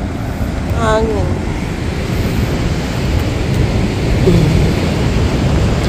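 Loud, constant rumbling wind buffets the microphone outdoors by a rough sea at high tide, a dense roar with no breaks, and a faint voice-like tone briefly rises above it.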